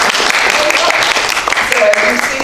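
Clapping from an audience at a community presentation, a steady wash of hands blended with murmuring voices and chatter throughout.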